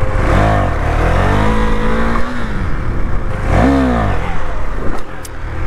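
A KTM Duke 390 motorcycle engine revs hard during a wheelie, loud and close, rising sharply in pitch twice, dropping back between pulls and staying under a constant roar.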